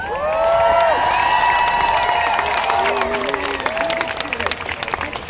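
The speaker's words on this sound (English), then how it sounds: "I think it's important that you give yourself a round of applause." An audience applauds and cheers for youth activists, with loud, dense clapping mixed with voices and whoops, some of them high and child-like, that build and then slowly thin out.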